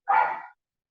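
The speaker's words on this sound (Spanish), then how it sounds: "Perdón porque están mis, mis perritas aquí dando vueltas." A pet dog gives a single short bark, fairly close and moderately loud, in an otherwise quiet room with no talking.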